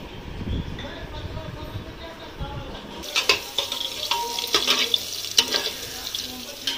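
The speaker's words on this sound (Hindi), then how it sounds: "सोया चंक्स, इसको फ्राई करने के लिए।" Soya chunks fry and get stirred in a pan, with sharp scraping and sizzling bursts through the second half under faint background chatter and kitchen noise.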